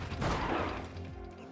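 Mini rally car crashing in the EA Sports WRC game, a dense, continuous roar of impact and scraping noise that fades slightly toward the end, with no talk over it.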